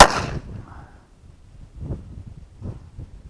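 A single loud shot from a Smith & Wesson Model 422 pistol, a sharp crack at the start that decays quickly, followed by quiet with faint low handling noises.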